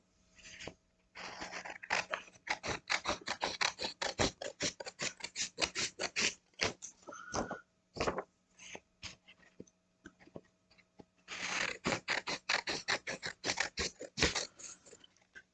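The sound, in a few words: scissors trimming sublimation paper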